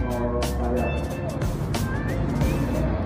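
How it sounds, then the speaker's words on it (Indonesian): A Harapan Jaya bus pulls into Tamanan bus terminal in Kediri, its engine rumble and road noise carrying steadily under general terminal bustle, with a voice talking over it. "Di belakangnya ada bus Harapan Jaya lagi ya."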